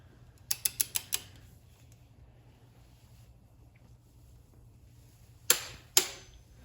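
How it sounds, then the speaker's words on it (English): Torque wrench on a cylinder bolt of a KX450 motorcycle engine: a quick run of five sharp clicks, then two louder isolated clicks after a quiet pause, close against a low steady hum. "Coming across the cylinder, we're gonna torque this next one"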